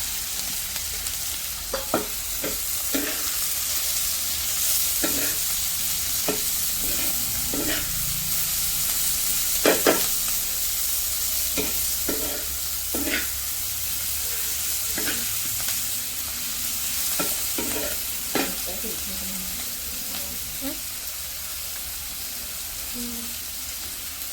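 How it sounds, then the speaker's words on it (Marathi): Onion frying in oil over a wood-fired village stove, a steady hiss of sizzling with repeated scraping strokes of a spoon stirring through the pan, close and continuous. "आता आपण तेलामध्ये कांदा टाकून घेऊया आणि ते व्यवस्थित परतून घ्यायचं आहे"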